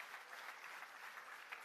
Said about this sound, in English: Another round of applause, ladies and gentlemen, for the CB Group.